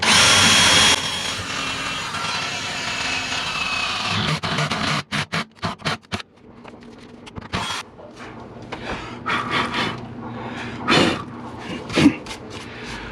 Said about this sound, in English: So we're going to go ahead and just drill a hole in the bottom of the car now.